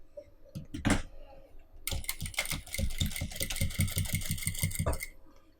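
A few scattered clicks lead into a close, rapid, steady chatter as a sewing machine stitches white and black hexagonal leather panels of a soccer ball together. The run lasts about three seconds and then stops.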